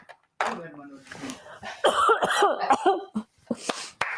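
A person with a tickle in the throat coughs a few times near the microphone, the coughs mixed with bits of speech and throat noises.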